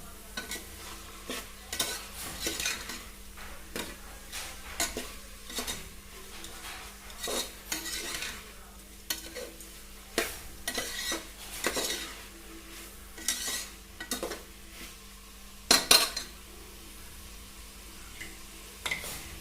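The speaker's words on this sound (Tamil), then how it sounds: "நல்லா எல்லாம் மிக்ஸ் ஆகிற மாதிரி நல்லா தொலைவி கொடுத்துக்கணும்." Andhra-style vegetable kurma is stirred in a pan, producing soft repeated scraping and tapping of a spoon against metal over a faint low sizzle, quickening near the end.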